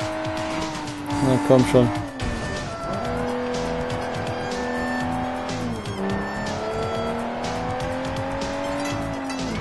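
A delivery van being chased in the Sleeping Dogs video game, a car engine revving and shifting loudly with a sharp burst of tire squeal early on, while someone speaks over it.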